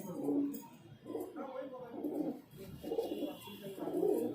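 Pigeons coo in a highflyer pigeon loft, with low rounded calls rising and falling in repeated bursts close by, mixed with other birds' sounds and someone talking throughout.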